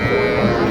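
Cattle at a village livestock market in Bangladesh, where small bulls and calves are sold, give a loud, close, sustained low moo lasting the whole brief moment.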